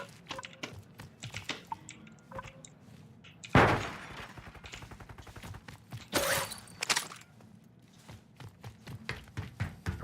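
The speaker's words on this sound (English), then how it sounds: "was gunfire close, but I couldn't really tell the direction for some reason." Sharp, sudden bursts of game gunfire, one loud crack then clusters of rapid shots, with clicking and faint background noises in between.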